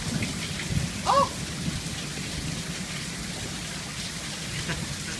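Heavy rain pours in a steady, dense hiss while a low rumble of thunder rolls underneath, with one brief faint voice-like sound in the middle.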